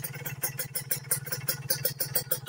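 A motorcycle fitted with a racing exhaust idles at about 1000 rpm, a steady throbbing low pulse with rapid regular popping beats, close and moderately loud, with no talking.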